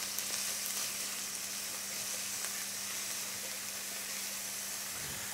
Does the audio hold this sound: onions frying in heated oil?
yes